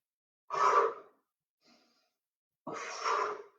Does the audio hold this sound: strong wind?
no